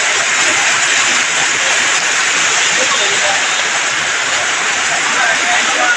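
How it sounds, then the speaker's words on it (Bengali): Heavy rain pours down over a market in the Dooars, a dense, loud, unbroken roar of falling water that holds steady throughout, with a voice faintly beneath it. "অনেক বৃষ্টি হইতেছে ডুয়ারসর বাজারে"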